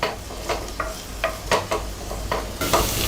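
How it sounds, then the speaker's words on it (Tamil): Onions sautéing in oil for prawn masala give a close, loud, steady sizzle, broken by regular spatula stirs and scrapes against the pan. "வெங்காயம் நல்லா வதங்கிடுச்சு."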